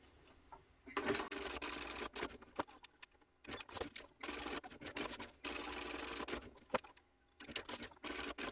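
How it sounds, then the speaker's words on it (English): Sewing machine stitching down fabric for a tote bag, in several bursts of rapid mechanical rattling separated by short pauses, close and fairly loud with no talking. "So we're going to sew this down"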